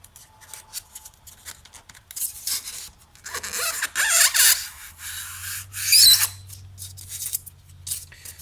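Scraping and rasping work on a diorama accent piece with a concave curve, irregular strokes of rubbing and filing that swell louder in bursts near the middle and end, heard close with no voices.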